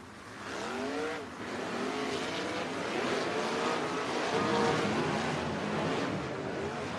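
Sprint cars race three wide at Sunset Speedway Park in Banks, Oregon, their engines roaring loudly and continuously with rising and falling pitch as they pass close by.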